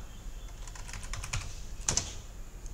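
Computer keyboard being typed on, a quick burst of close key clicks and taps over a low steady hum.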